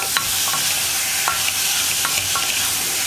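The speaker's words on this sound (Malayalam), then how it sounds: "ഒരുപാട് സമയമൊന്നും ഇളക്കണ്ട, എല്ലാം ഒന്ന് മിക്സായി കിട്ടുന്ന രീതിയിലൊന്ന് ഇളക്കുക." Egg curry masala being stirred in a pressure cooker, a constant close sizzle with repeated soft scrapes and taps of a spoon against the metal pot every half second or so, no voices.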